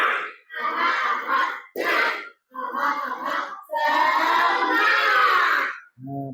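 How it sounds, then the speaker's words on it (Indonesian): A classroom of students performs a spirit clap, bursts of clapping and shouted chanting in several loud, rhythmic phrases separated by short pauses. "Coba tepuk semangat."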